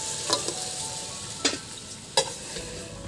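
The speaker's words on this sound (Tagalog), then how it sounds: "Lilipat ko muna sa bandihado para makagisa tayo ng mga ingredients." Native chicken tinola ingredients sautéing in a pan, a steady close sizzle with three sharp clatters of a utensil scraping and stirring, no voices.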